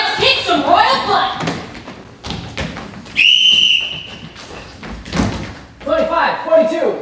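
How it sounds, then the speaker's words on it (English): During a high school stage comedy, a single shrill whistle blast rings out for under a second amid thumps, a slam and lively talking from the performers. "I think I have a whistle in here"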